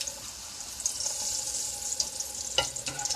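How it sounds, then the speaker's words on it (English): A tortilla frying in oil in a pan over mole gives off a steady, moderate sizzle, with a few brief scrapes and bubbling pops toward the end. "you're just going to fry that tortilla just for like a minute"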